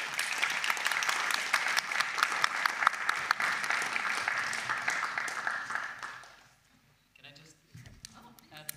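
Audience applause for a panel at an EU Days event in Lund, a dense crowd clapping for about six seconds before fading out, followed by faint scattered sounds and a few voices.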